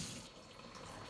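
Water poured into a bowl of flour, white and dark rye, for sourdough bread, a steady soft pouring and splashing running continuously for about a second, fairly quiet.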